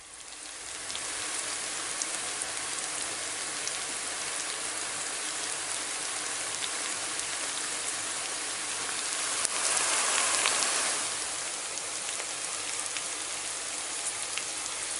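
Malabar spinach pakoras fry in hot oil with a dense, steady crackling sizzle like rain, swelling briefly louder partway through, close and continuous with no voices.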